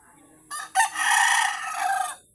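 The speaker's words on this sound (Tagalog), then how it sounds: "Yung manok ni Joy Joy." A single rooster crows loudly and close, one drawn-out call lasting under two seconds.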